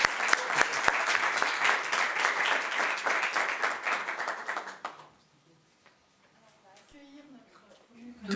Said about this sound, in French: je propose aussi d'applaudir Yann parce que c'est un gros travail.